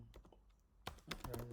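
Keys clatter on a computer keyboard as a command is typed: a few soft, quick taps followed by a closer, louder burst of keystrokes, with no talking.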